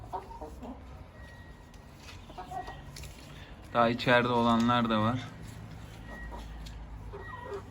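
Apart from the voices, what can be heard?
chickens clucking on a terrace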